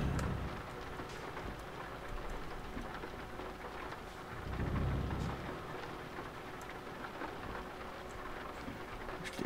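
Steady rain falls around a vehicle, most likely a truck, a continuous even patter with a brief swell near the middle and no voices.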